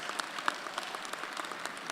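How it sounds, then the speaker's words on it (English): A university honors convocation audience applauds, brief, moderately distant clapping from a crowd with scattered individual claps popping out. "Now I'm stopping there, you should applaud that."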